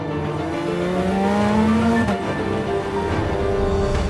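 A 2019 Porsche 911 RSR race car drives past with a loud, sustained engine note that climbs steadily in pitch as it accelerates and shifts, close and continuous throughout.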